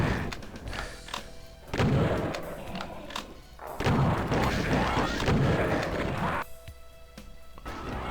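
Shotgun blasts and combat booms from the Doom map Ozonia (Map05), loud repeated thumping impacts in clusters over game noise and music, with a voice talking faintly.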